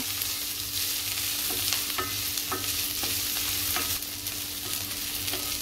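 Onion sautéing in a pan for matar paneer, a steady close sizzle with a faint hum beneath and occasional sharp spoon scrapes and clinks against the pan.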